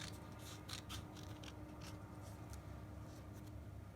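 Scissors cut through the pages of a book for a DIY pumpkin craft, a series of faint, quick snips and rustles against a steady background hiss.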